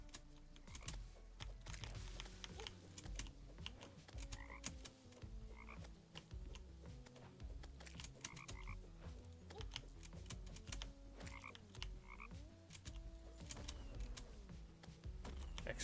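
Exploding toads croaking in the Terraria Calamity video game, with repeated clicky croaks in irregular bursts set against a continuous background music track, moderately quiet throughout.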